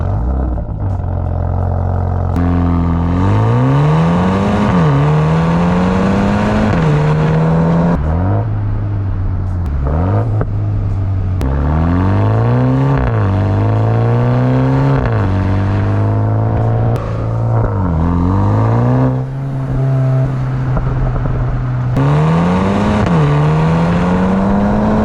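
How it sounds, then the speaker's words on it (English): Exhaust of a 2020 BMW M235i Gran Coupe, loud and close, rising through repeated revs and accelerations with gear changes, crackles and lifts between pulls. "here is a short compilation of how the exhaust sounds"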